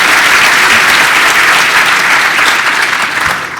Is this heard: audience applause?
yes